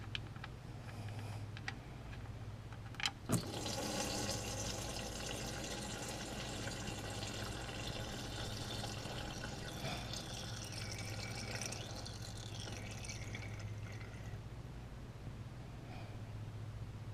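Engine oil draining from the oil pan of a 2013+ Lexus GS350 after the drain bolt is loosened, a steady continuous liquid stream running close by with a low hum beneath it and a sharp tick near the start.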